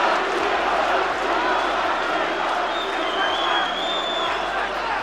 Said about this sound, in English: Szpilka's crowd getting vocal.